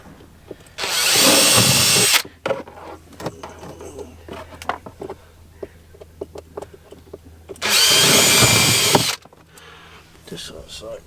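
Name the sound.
power drill drilling holes in boat bottom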